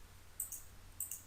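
Two pairs of quick, faint computer mouse clicks come about half a second apart, each a crisp double tick over a quiet room hum.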